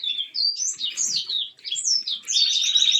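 Canaries in a breeding setup chirp and warble in quick, continuous high-pitched phrases, close and clear with no voices.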